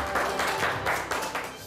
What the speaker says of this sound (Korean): 다시 큰 박수 부탁드리도록 하겠습니다